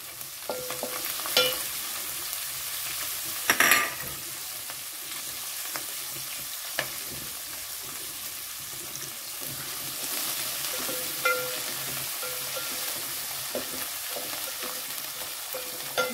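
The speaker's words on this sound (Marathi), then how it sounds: "ती त्यातली ना थोडी कोथिंबीर आपण यात फोडणीत घालूया" Chopped coriander hits hot tempering oil for a green-chilli chana usal, giving a steady, close sizzle with occasional sharp spatters and spoon clinks, and no voices.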